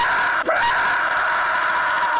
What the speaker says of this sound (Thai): กูเปิดแพ็คกูไม่เคยกรีดร้องอะไรขนาดนี้เลย